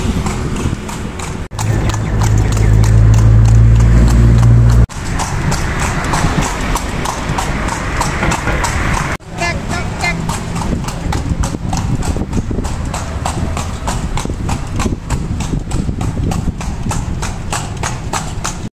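Horse hooves clip-clop steadily as the horse pulls a carriage through Lampang, Thailand, a continuous near, loud rhythmic clatter lasting throughout, with other low background sounds and brief breaks in level.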